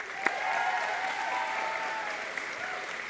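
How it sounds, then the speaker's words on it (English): A crowd applauds steadily at a high school graduation ceremony, a dense wash of clapping that holds for a few seconds, fairly close and loud. "Give yourselves a round of applause."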